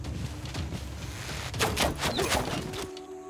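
A bombard strike on a city in Civilization VI: a burst of booming, crackling impacts swells midway and rings for about a second and a half over a low rumbling game backdrop, then cuts off abruptly.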